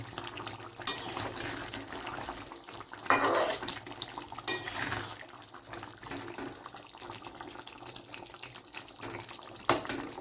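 Metal spatula stirring chicken curry with new potatoes in a pot, a series of clanks and scrapes against the metal at irregular intervals over a soft wet bubbling background.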